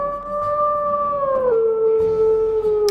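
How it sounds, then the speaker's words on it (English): A wolf howl from the video game WolfQuest, one long sustained tonal call that holds steady, then drops slightly in pitch halfway through and carries on to the end, loud and clear with no talking over it. "I think that one might be the original howl"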